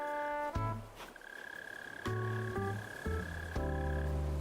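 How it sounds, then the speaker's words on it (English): A mole cricket in the video game Animal Crossing: New Horizons gives a low, croaking, buzzing chirp from underground, with soft tonal game sounds and ambient music, steady and fairly quiet. "I'll show you how the mole crickets work, actually."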